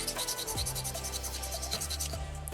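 Sandpaper or a file rubs across a soft soapstone butterfly carving, smoothing away bandsaw tooling marks with quick, rhythmic scratchy strokes up close, steady and without speech.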